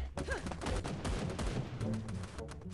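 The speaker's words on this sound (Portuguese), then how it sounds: "Nossa, tá muito bugado os barulhos do tiro" Dense, bugged-sounding gunfire from a Free Fire battle royale match in the Bullseye area, a loud continuous volley of rapid shots with steady intensity throughout.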